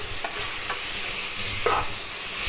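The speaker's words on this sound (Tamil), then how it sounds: "எண்ணெயிலேயே நல்லா வதக்கணும்" Shredded cabbage sautés in hot oil in a pan with a continuous close sizzle, marked by a couple of soft stirring scrapes.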